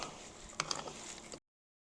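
Ratchet loosening cylinder head bolts on a Honda CB350F motorcycle engine, a few quick metallic clicks close up and fairly quiet, then the sound cuts off.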